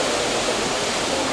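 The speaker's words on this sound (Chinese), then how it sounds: "是五彩黃龍瀑布" Five-Colour Yellow Dragon Waterfall in Enshi Grand Canyon, water falling over yellow rock, gives a dense, steady rushing roar heard alone.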